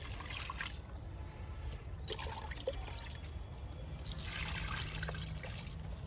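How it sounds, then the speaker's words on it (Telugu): Liquid kitchen-waste fertilizer is poured onto rows of vegetable and fruit plants in a garden after rain, giving a steady soft trickle and splash that carries on throughout, with no talk. "ఇలా అన్ని మొక్కలకి ఇచ్చేయడమే"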